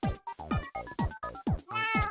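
A cat meows repeatedly in Minecraft, about eight rapid, loud, close meows in quick rhythm with short gaps, alone without talk.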